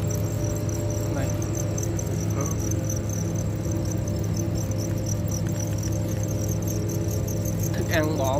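Breeding crickets kept in a home enclosure chirp in a dense, continuous shrill trill, with a few brief faint sounds scattered over it.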